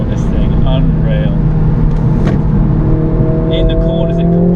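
Mercedes A45S AMG on a race track at full throttle, with a loud, close engine roar pulling hard through gears and tyre and wind noise, while someone talks over it.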